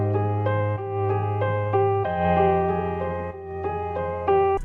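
A short melodic music sample pitched up two semitones, with sustained harmonic tones and a steady bass note, changing chords every second or so, played cleanly with no voices.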